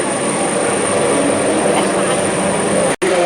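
Rescue helicopter hovering low over the water at an air show in Varenna, a loud continuous rotor and engine roar with a steady high whine, broken by one very short dropout.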